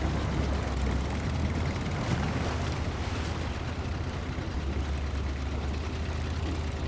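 A steady, low truck engine drone rumbles without pause in the video game SnowRunner, like a heavy vehicle moving along, with no speech over it.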